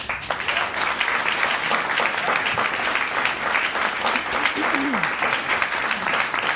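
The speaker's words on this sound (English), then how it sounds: "a round of applause for them, please" Sponsors of new chiefs get a round of applause at a CPO khaki ball at the House of Blues in San Diego: steady, dense clapping from a large crowd throughout.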